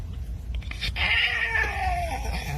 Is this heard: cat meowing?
yes